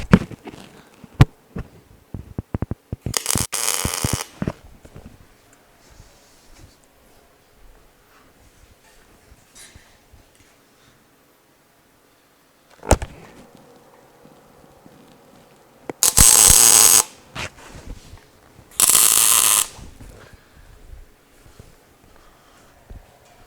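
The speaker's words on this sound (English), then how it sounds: "we're going to tack weld that as well" Tack welding on the rear edge of an inner frame, heard as a few short bright buzzing bursts of a second or so each, separated by quiet stretches with faint handling noise.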